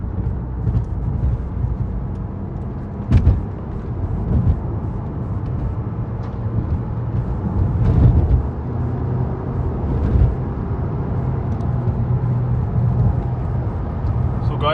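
A modded Honda Accord accelerates in sport mode on a flyover, its engine a steady low rumbling drone that swells briefly around the middle, heard from inside the cabin.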